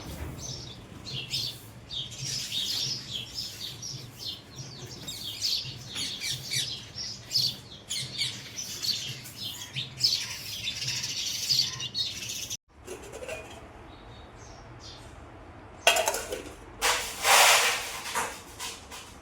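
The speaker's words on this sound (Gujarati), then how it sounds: "ખૂબ મજા આવે ગામડે તો સવારમાં પક્ષીઓનો અવાજ સાંભળીને" Chirping and squawking birds fill a village morning, a busy layered chorus of calls running steadily, briefly cut off, then returning with sharper nearby squawks.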